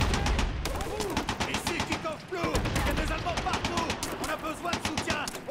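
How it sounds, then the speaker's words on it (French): Machine-gun fire rattles in rapid bursts during a World War II shooter battle in Brothers in Arms: Hell's Highway, sharp repeated cracks with echoing tails, continuous and mid-distance. "On subit des tirs de mitrailleuses"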